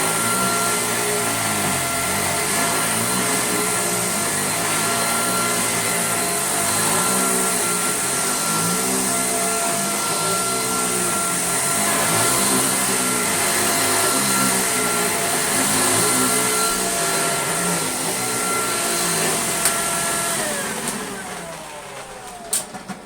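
A Philips U800 vacuum cleaner runs continuously with a steady motor whine and airflow rush, its pitch shifting slightly as it is pushed over carpet, then cutting off near the end.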